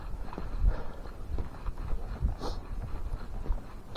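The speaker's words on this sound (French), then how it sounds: "là-bas, il y a des chevaux" Horses walk outdoors on a cold winter day, their hooves clip-clopping in a loose, uneven rhythm at moderate distance against a rumbling background.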